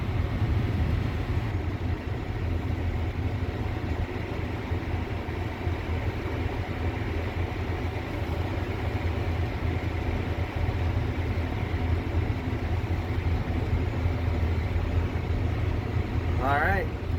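Tractor pulling away in high range during spring field tillage, a steady low engine drone running continuously and loud close by, with a brief rising whine near the end.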